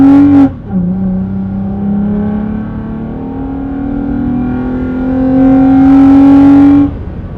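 A Toyota Tacoma pickup (2016–2020) fitted with an S&B cold air intake revs loudly and steadily, its engine note climbing slowly through a sustained rev before dropping off, with a brief blip at the start.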